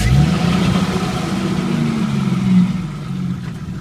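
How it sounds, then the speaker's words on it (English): Engine of a Jeep Wrangler YJ running after a drum brake and wheel cylinder replacement, a loud close steady mid-pitched drone with slight rises in revs, and no voices. "So now we're just going to turn the vehicle on and run it back and forth a couple of times."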